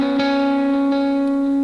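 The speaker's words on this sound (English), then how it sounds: "you can kind of hear like the delay gets this dirty distortion" Electric guitar on a Line 6 Helix with the delay set before the amp distortion, a sustained loud distorted chord ringing out with faint dirty echo repeats trailing behind it, alone with no talk.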